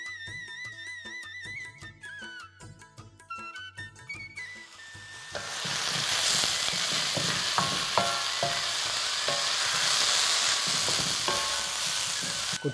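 Boiled broad beans (tolu chikkudu) tossed into a hot pan for a fry, bursting into a loud steady sizzle after a few seconds of quieter music, with clinks of stirring through the crackle.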